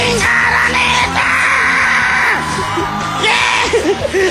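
Arena crowd at Araneta yells, whoops and cheers loudly and continuously during a grand finals show, the roar swelling in waves with voices shouting over it.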